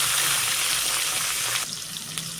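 Salted, drained pointed gourd (potol) frying in hot oil in a pan, a loud, dense sizzle that drops in level partway through and then continues more softly.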